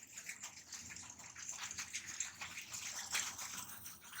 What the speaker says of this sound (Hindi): अभी दोबारा फिर मैं इस मोटर को स्टार्ट करता हूँ। ये देखिए पानी स्टार्ट किया